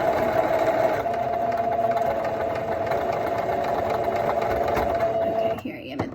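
A sewing machine stitches fabric for a face mask with a steady, continuous mechanical whir and a sustained tone, stopping near the end; a person talks over it.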